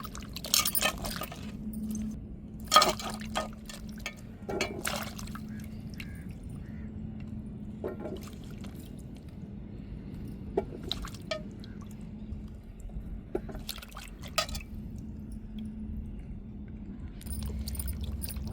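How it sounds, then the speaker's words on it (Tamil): Wild rain-grown mushrooms being washed and rinsed in water for a mushroom curry: irregular close splashes, drips and glassy clinks of a bowl, with quiet gaps between them. "இப்போ காளானை நம்ம க்ளீன் பண்ணிவிட்டு நல்லா அலசி எடுத்துக்கிட்டாச்சு"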